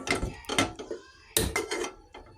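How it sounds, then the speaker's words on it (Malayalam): A metal pan set down on a kitchen stove gives two short clusters of clanking and rattling, each a quick burst of knocks that fades within half a second. "ഇനി ഒരു പാൻ അടുപ്പത്ത് വെക്കുന്നുണ്ട്."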